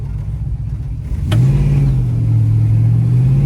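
A 1968 Chevrolet C10 pickup truck engine that idles with a deep rumble, then surges into a loud, sustained rev as the truck pulls forward, steady and close with no talk.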